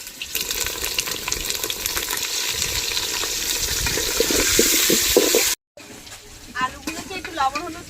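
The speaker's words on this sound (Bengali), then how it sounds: "সরষের তেল গরম হয়ে গেছে এবার আলুগুলো ভেজে নেব" Potatoes fry in hot mustard oil for a goat-meat curry cooked in a pot. A steady, loud sizzling hiss runs throughout with scattered crackles, briefly cut off near the end before resuming more quietly.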